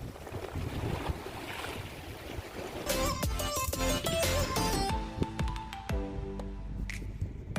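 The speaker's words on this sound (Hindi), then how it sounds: "दोस्तों आसमान देखिए और हवाओं का आवाज़ सुनिए कैसे आ रहा है।" Wind blowing outdoors during a lockdown in France, with a steady rushing roar and microphone buffeting throughout, while a separate clattering, tonal sound cuts in partway through.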